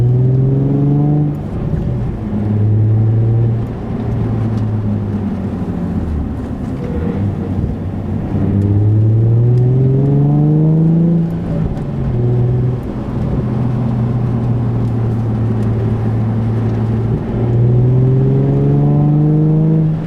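From inside the cabin, a Nissan 350Z/370Z with an Invidia Gemini cat-back exhaust and Berk Tech high-flow cats drones loudly, its engine tone rising and falling repeatedly through gear changes while cruising.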